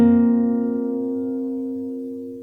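Acoustic guitar picked fingerstyle on a song phrase, a single plucked note or chord ringing out close and clear, decaying slowly.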